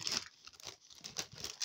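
A plastic bag crinkles as a cross stitch kit is slipped back inside, giving quick, irregular close-up rustles and crackles over under two seconds.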